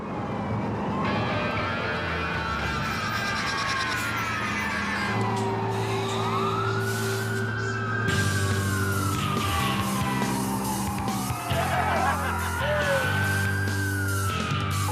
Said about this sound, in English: All their sirens and stuff, that was pretty fun to watch